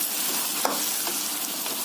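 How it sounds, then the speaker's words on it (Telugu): Chicken curry ingredients stirred in a hot frying pan, a steady close sizzle with a few scraping stirs of the spoon and no voices. "ఇప్పుడు ఇవన్నిటిని కొద్దిగా మిక్సింగ్ చేద్దాం."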